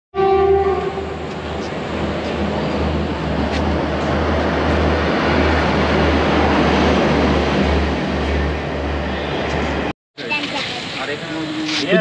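Inside a passenger coach on a train bound for Sikkim, a loud, steady rumble of the running carriage fills the scene, with a horn blast at the start, a brief cut near the end, and voices after it.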